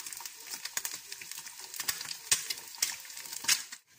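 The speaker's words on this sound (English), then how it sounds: "This is our fried egg." Steady close crackling sizzle of an egg frying in a pan, with sharp pops and spits scattered throughout.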